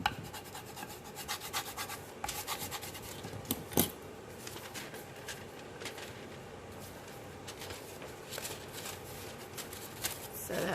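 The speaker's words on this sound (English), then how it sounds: "So I just line these two edges with the surgical tape, and I just kind of burnish it down." Surgical tape is burnished down along the inside edges of a journal page, giving steady close rubbing and rasping strokes with small taps and crinkles, heard alone without talk.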